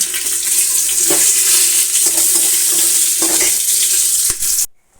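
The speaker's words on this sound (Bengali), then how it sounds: "দেখো রাইস দেখো মাংস কষা হচ্ছে" Meat sautéing in a pot with ghee, garam masala, bay leaf and cardamom hisses steadily up close, broken by several sharp stirring clacks of a spoon against the pot before cutting off abruptly near the end.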